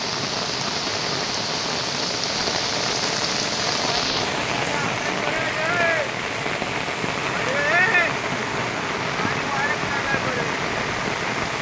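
Heavy monsoon rain pours in Konkan beside a flooding stream that is rising over farm fields, a loud unbroken roar of rain and rushing water with a few faint high calls, no voices.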